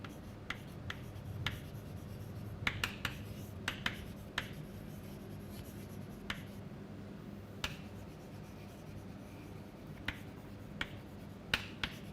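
Chalk taps and scratches on a board as a physics lecturer writes out a point on angular momentum conservation, sharp irregular clicks over a quiet room hum, with no talking.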